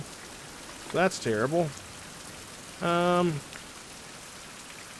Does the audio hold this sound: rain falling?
yes